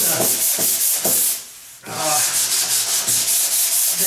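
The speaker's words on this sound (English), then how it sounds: "Yeah, I could hit it with the paddle sander" A paddle sander scrubs across a wooden door around the hinge locations, a loud, steady abrasive rasp with rhythmic pulses and a brief pause midway before the sanding resumes.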